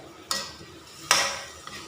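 Taro and pork curry being stirred in a pot, with a couple of distinct scraping strokes of a utensil against the pot separated by quiet pauses, close and fairly faint.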